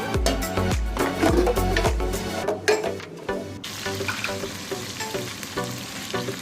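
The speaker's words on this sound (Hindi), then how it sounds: "अब हम इसमें प्याज शामिल कर देते हैं" Chopped onions for chicken biryani hit hot oil in a pot, giving a loud burst of sizzling with stirring knocks and clatter at first, then a steadier, quieter frying hiss.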